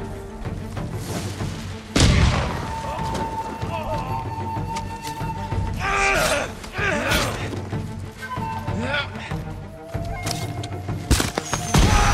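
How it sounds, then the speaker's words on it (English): Enemies firing during a Ghost of Tsushima battle: several sharp, loud shots and thuds land at irregular intervals over game noise, with someone talking throughout. "Okay, now they're gonna shoot."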